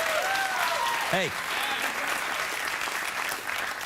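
A late-night talk show studio audience applauds loudly and steadily, with a few whoops rising over the clapping and a brief spoken interjection near the start.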